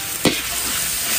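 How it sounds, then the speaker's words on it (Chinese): Scallion and ginger stir-fried in a wok give a steady close sizzle, broken by one quick scrape of the spatula. "放入葱姜继续翻炒，"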